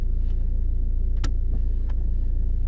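Engine of a driving-school car in first gear as the learner eases off the clutch: a steady, close, low idling hum with a couple of faint clicks, no talking.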